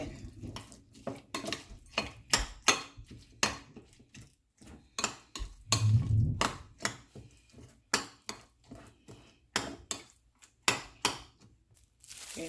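Deviled egg filling being mixed in a bowl, with repeated scraping and clinking strokes of a utensil against the bowl in an uneven rhythm, close and fairly clear, with no talking.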